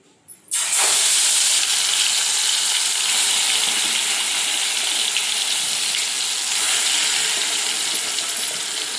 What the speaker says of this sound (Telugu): ఇప్పుడు హాఫ్ అన్ అవర్ పెట్టుకున్న లివర్ని ఇట్లా వేసేసుకున్నాం ఆయిల్లో